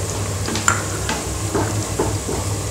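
Spices, mint and coriander leaves, chilli powder, coriander powder and garam masala sautéed in a pan for chicken leg piece biryani, a steady close sizzle broken by several scraping stirs, with no talking.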